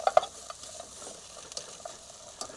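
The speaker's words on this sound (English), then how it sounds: "Start sizzling the fuck out of that." Tomatoes sizzle faintly in a frying pan on a camper van stove, a soft crackle with scattered pops and stirring clicks.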